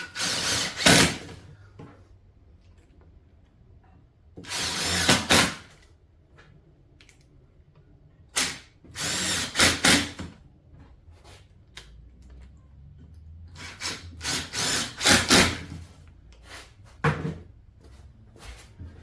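Decking screws being driven into wood in a workshop to build a stand, several separate bursts of drilling and whirring spread over the span, with quiet gaps between them.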